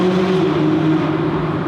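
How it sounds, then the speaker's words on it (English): McLaren 570GT engine in track mode revving on a downshift inside a tunnel, a loud, close, sustained droning growl with strong reverberant tone and no pauses. "Track mode engaged, and we do a triple downshift."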